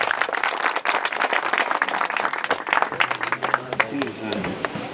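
An audience at a village social drama stage event applauds a dance teacher, choreographer Kishore, and his student, with dense, lively clapping throughout and a voice beginning to speak over it near the end.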